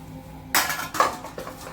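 Potatoes go one by one into a pressure cooker of mutton curry, making three quick clattering knocks of metal and food against the pot, close and fairly loud.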